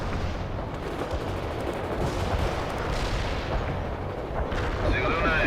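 Mortar and artillery fire rumbles continuously in the World in Conflict game's Berlin Wall battle, with dense overlapping booms and blasts and radio-style voices talking over the barrage.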